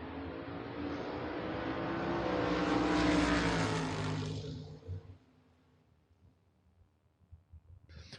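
A Ford Mustang and a 1969 Chevrolet Nova launch side by side at a drag race, a loud roaring engine pass that swells to a peak and then recedes into the distance, leaving faint crowd noise.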